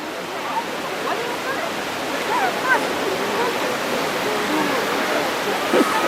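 The White River in Dominica rushes steadily along its banks near Victoria Falls in a dense, constant wash of flowing water, with faint voices drifting through now and then.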